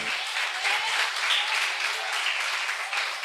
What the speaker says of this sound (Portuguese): Você pode aplaudir essa palavra com alegria?